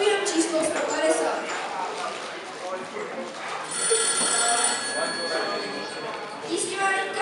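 A telephone rings during an emergency call to the firefighters, staged as a fairy-tale skit at a firefighters' ball, with bell-like trills repeating over people talking.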